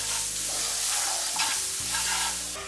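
Onion frying with ground spices in rice oil in a pan, a dense steady sizzle with stirring scrapes and a brief clatter near the middle, nobody talking.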